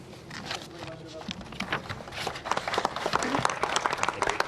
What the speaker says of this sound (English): Applause for Leo Varadkar as he became emotional at the end of that statement